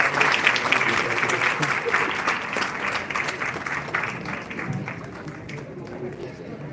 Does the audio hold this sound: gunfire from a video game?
no